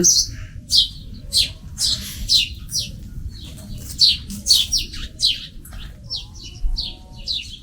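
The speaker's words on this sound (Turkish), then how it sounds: "Çok fazla kuş var." Many birds chirp in quick, repeated bursts, bright and close, continuing steadily over a low outdoor rumble in a village.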